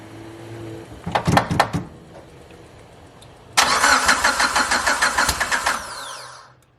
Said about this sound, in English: Alright, we're going to give her a start. It's open downpipe, so it's going to be really loud